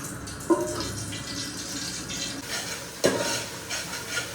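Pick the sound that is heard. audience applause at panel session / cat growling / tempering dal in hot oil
tempering dal in hot oil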